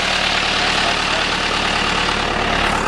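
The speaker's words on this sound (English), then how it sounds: "This is how Joe starts his tractor." John Deere tractor engine running at idle after being hot-wired, a steady loud diesel-like rumble with an even throb and no talking over it.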